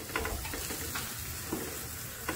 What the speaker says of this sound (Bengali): কিন্তু আমার তেলটাও গরম হয়ে গেছে। তো এই যে আমি এগুলো এক এক করে বসিয়ে দিচ্ছি।